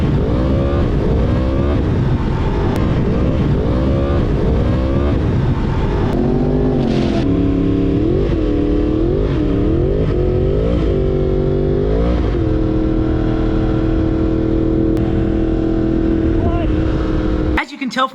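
A Yamaha R1M motorcycle with a burned, slipping clutch revs repeatedly, engine pitch sweeping up and down in loud, close surges, then holding a steadier drone before cutting off abruptly.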